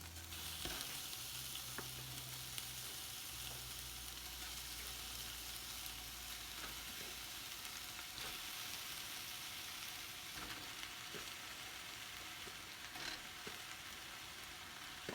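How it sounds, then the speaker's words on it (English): Cubes of beef with some fat left on browning in a pan, a steady, close, bright sizzle and fry that continues throughout with occasional light scraping and clicks, no talk. "And then I'm going to be putting my beef in, and we're going to brown off the beef."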